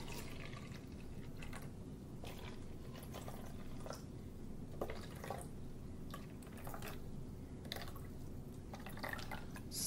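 Water is poured into a row of cups for a craft activity, a faint steady trickle with scattered drips and splashes continuing throughout.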